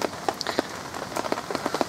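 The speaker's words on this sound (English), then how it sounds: "rain was coming down so heavy it was creating bubbles" Light rain drips onto a lake at a carp fishing spot, quiet scattered droplet taps landing close by in an uneven patter.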